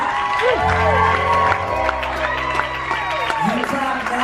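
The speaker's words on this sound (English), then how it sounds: "you clap now" A concert audience on the Rock Boat music cruise claps and cheers with scattered whoops, loud and close, while voices carry over the crowd noise.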